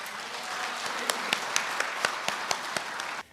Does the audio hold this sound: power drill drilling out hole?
no